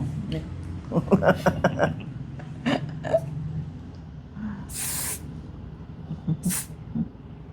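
Hairspray hisses from a can onto styled hair in a short, bright burst, with a second, briefer spritz after it, while someone talks before and around the spraying.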